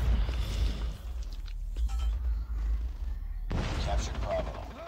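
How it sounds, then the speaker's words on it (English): Call of Duty Mobile gunfire bursts in rapid cracks and rattles against background battle noise, with a sharp louder volley near the end and a player speaking at times. "That's four blind teammates that didn't see that guy shooting them from the sidelines."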